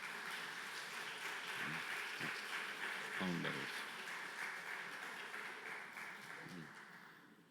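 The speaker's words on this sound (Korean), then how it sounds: "우리 큰 박수로 환영합니다." A church congregation applauds to welcome a bride and groom at a Sunday service. The applause is faint and distant, a soft steady patter that fades toward the end, with a voice speaking briefly over it.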